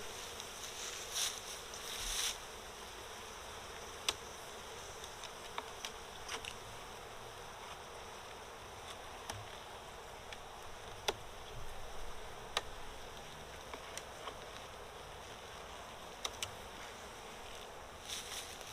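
Honey bees and drones buzz faintly around a hive in Central Florida, a soft continuous insect drone with occasional close fly-bys and small ticks from the hive.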